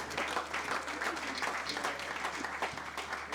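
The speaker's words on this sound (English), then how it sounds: "A round of applause for him, please." A crowd at an engineers' branch chairman inauguration ceremony applauds in a dense, continuous wash of clapping that holds steady at moderate volume throughout.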